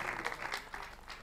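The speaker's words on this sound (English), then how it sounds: "A round of applause for them once again." Brief applause from the audience at the grand finale of the Lagos State Choir Awards, moderately faint, with scattered claps rising and falling over about a second.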